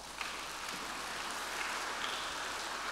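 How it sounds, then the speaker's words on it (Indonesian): A church congregation claps in soft, steady, hiss-like applause that sounds distant and continuous, with no distinct individual claps. "Tepuk tangan untuk Anda"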